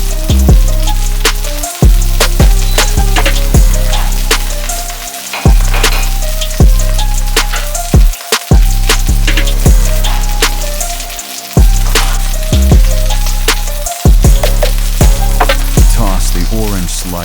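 Garlic fries in butter with a loud, continuous crackling sizzle and sharp spits, while tonal background music plays underneath.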